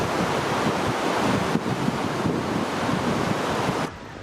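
Turbulent rushing water and gusting wind at a jungle trek lunch stop on the route from Cusco to Machu Picchu in Peru, a loud, constant broadband roar heard alone that drops abruptly near the end.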